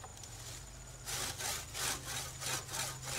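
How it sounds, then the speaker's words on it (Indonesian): A handsaw cuts through a woody air-layered branch to separate it from the mother plant, giving a steady run of rhythmic rasping strokes, close and fairly loud after a quieter start, with no talk. "Kita gergaji aja untuk pemisahan cangkok dari induknya kira-kira 5 cm dari sayatan bagian bawah."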